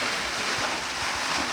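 Water gushes hard and steadily from the return pipe of a well's motor pump, a loud, continuous broadband rush with no pauses.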